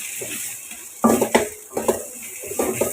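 A utensil stirs chili powder into an okra and prawn curry in a pan, making several distinct scraping clanks against the metal over a faint background sizzle, irregular and close.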